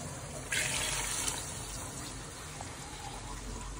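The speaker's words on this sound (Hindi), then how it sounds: "तो अब हम इसमें ना पानी डालेंगे" Water is poured into a cooking pot of ghee-rich curry, a brief gushing splash at first that settles into a softer steady trickle.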